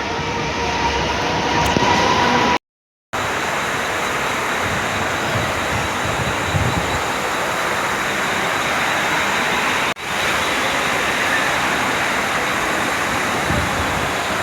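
Loud, steady rumble of a Panvel-bound commuter train rolling into a station near Kharghar, rail noise filling the scene with a brief dropout partway through.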